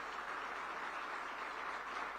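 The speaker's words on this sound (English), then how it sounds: "A huge round of applause," Audience applause at a banking and economy summit in Gujarat, a steady even wash of clapping from a large crowd, moderately distant, with no voices over it.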